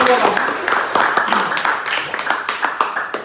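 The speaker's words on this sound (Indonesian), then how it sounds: "Tepuk tangan untuk Hasanah dulu sudah menjelaskan 2." Classroom applause for a student named Hasanah in a vocational high school photography class, a short burst of scattered clapping from a small group mixed with nearby talk.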